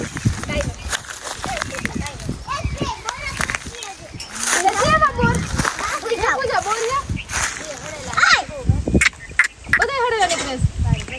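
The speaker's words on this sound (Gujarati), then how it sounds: "નદી નાવાની મજા આવી" A horse is bathed in a river, with irregular water splashes and sloshing close by, mixed with children's voices and other people talking throughout.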